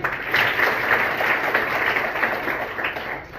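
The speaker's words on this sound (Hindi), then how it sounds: "एक बार ताली बनती है।" An audience at a school assembly at an inter college near Varanasi claps together in a dense, steady burst of applause that lasts a few seconds.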